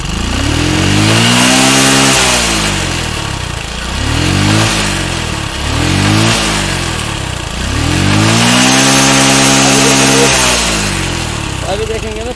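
TVS XL100 moped engine revved hard at full throttle, rising and falling in four loud, close surges with a buzzing, whining tone.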